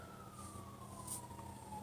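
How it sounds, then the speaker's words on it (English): A passing ambulance siren on a residential street, heard faint and distant as a steady, slowly falling wail over low traffic rumble, with no voices. "Is that the 10th ambulance today coming down my damn street?"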